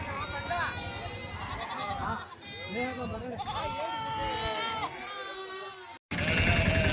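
Goats and sheep bleat repeatedly at a weekly livestock market, several overlapping wavering cries near and farther off amid crowd chatter and people talking.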